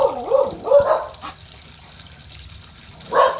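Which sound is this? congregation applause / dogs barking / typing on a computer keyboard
dogs barking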